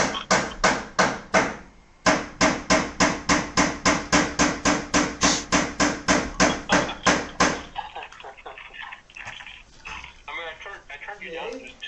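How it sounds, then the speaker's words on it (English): Loud, regular hammer blows from someone installing a door frame, about twenty evenly spaced strikes with one short pause, then fading into quieter clatter and indistinct background noise. "when that hammering's going on, I can't even hear anything you guys are saying"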